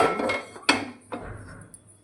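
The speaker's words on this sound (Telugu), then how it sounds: "ఒక గిన్నె పెట్టేసుకుందాం" A cooking bowl set down on a hard surface before frying an egg curry, giving a few sharp metallic clanks and knocks, close and clear with short ringing decays and no talk.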